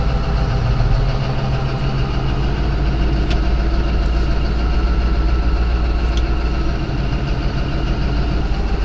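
A large farm tractor's diesel engine idles loudly and steadily nearby, a constant heavy rumble with a faint higher whine on top, no voices.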